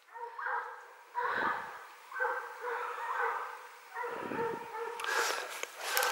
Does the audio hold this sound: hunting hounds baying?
yes